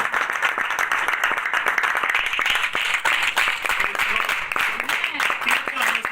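A church congregation claps for the Lord during a sermon, with dense, steady crowd applause running the whole time and voices heard over it.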